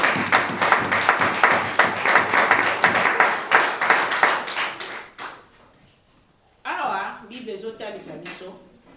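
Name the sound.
congregation applauding the word of God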